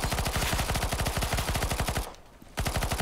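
Rapid, evenly spaced automatic gunfire in Counter-Strike: Global Offensive, loud and close, firing continuously with a brief half-second gap before resuming.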